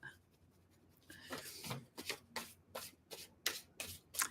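Tarot cards being shuffled by hand: a quiet start, then a run of brisk, repeated riffling and rubbing bursts in an irregular rhythm, close and soft, with no talking over it.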